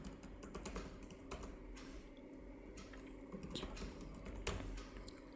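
Someone types an email address on a computer keyboard. Quiet, steady key clicks in an irregular rhythm run for several seconds at close range, with no voice over them.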